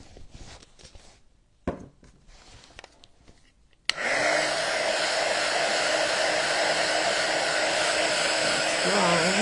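A heat tool or dryer blowing over a protected craft board, switching on after some quiet handling noises and then roaring steadily and loudly up close.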